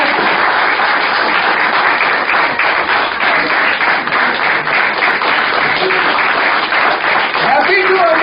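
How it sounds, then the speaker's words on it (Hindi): Audience applause at a celebration of a Doordarshan serial's 200th episode, a dense, steady wash of clapping that stays loud throughout, with voices mixed in. "देखें तालियों की गूंज कहां तक पहुंचती है"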